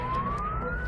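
Sharp, rising siren wail in a dense high-rise city district at night, steady and fairly loud over a continuous low rumble of traffic and background noise.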